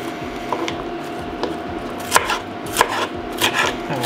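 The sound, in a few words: chopping washed peppers into cubes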